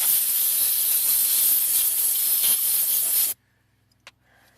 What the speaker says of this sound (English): We'll just take a little deoxit spray, spray it down